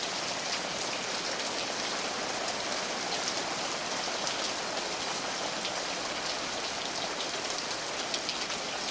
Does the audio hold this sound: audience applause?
no